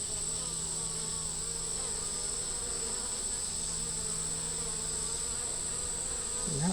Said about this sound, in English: most of the bees got on the frame